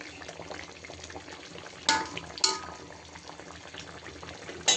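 Surma sea fish cooking with tomato, yogurt and poppy paste in a pan, a steady low bubbling simmer with occasional sharper clinks and scrapes of a utensil against the pan.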